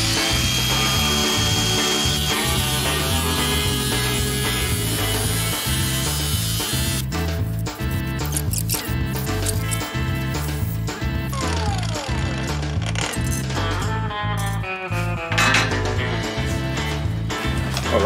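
A power grinder whines and rattles continuously, grinding rust off the metal frame of a 1962 KTM Ponny De Luxe scooter, harsh and close, its pitch shifting as it bears down on the surface.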